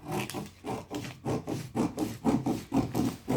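Scissors cut away the extra material from a paper bustier top draft, making soft, rhythmic rasping strokes about twice a second, close and fairly quiet, with no talk.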